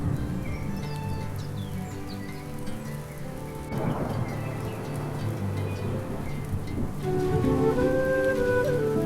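Steady rain falls with rumbling thunder in a cozy countryside setting, a dense constant patter on surfaces with a louder swell of downpour partway through, no voices.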